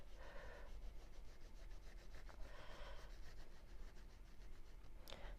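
A pastel dye stick rubs over angled fabric in repeated dry strokes, soft rasping scrapes in a back-and-forth rhythm, faint and close with no talking.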